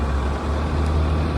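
An INEOS Grenadier towing a 10-ton load starts to creep forward, and its engine puts out a steady, heavy low rumble at close range.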